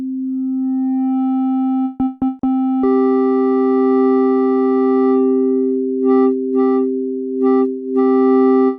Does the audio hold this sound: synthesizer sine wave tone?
yes